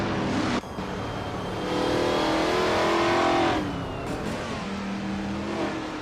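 The turbocharged engine of a Ford Focus RS race car in a racing video game revs and accelerates loudly and climbs in pitch, then drops back to a steadier drone after a short cut.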